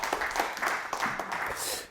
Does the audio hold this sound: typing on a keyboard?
no